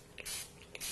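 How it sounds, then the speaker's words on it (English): A handheld spray bottle spritzes water onto a palette of paints in two quick, close bursts of fine hissing mist, each preceded by a faint click of the trigger. "Take your spray bottle of water"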